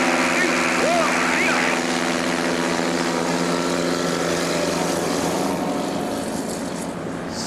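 Propeller racing aircraft drone steadily at an air race championship, a loud sustained engine roar with a slight pitch sweep, fading a little toward the end.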